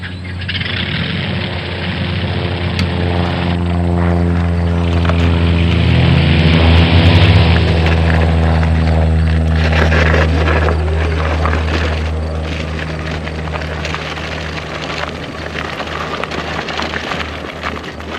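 A Sun Seeker light aircraft engine cranks, catches and settles into a loud, steady propeller drone, heard up close with a strong low hum that holds for the whole stretch, no talk.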